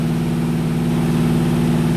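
Chevy 350 small-block V8 with a 307 crankshaft, stock manifolds and 2-inch exhaust, running steadily on its first start during cam break-in, a loud, even low rumble that holds without pause.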